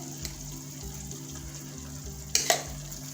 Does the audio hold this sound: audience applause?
no